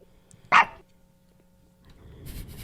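A man imitates a dog bark during a casual podcast conversation, one short loud bark-like yelp followed by quiet and then faint chatter and rustling.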